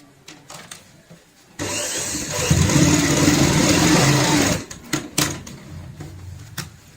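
A sewing machine stitches fabric for a homemade hand purse, its motor whirring in one steady run of about three seconds, framed by scattered short clicks and handling taps.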